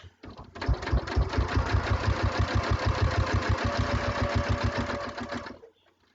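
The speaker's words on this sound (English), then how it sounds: "then I'll start sewing again" A sewing machine stitches down quilt binding in one steady run, its rapid even needle thumps starting abruptly, holding a constant pace for about five seconds, then stopping.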